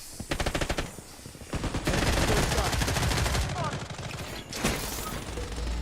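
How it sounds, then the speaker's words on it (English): Rapid automatic gunfire from a defensive turret in the Blood Strike shooter game, with loud sustained bursts of close, dense shots and a brief pause between volleys, alongside game voice prompts. "Defensive turret activated."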